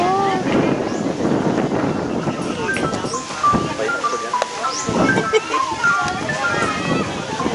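Steady wind buffets the microphone outdoors in Ilocos, Philippines, with water sloshing nearby and people chatting over the rushing air.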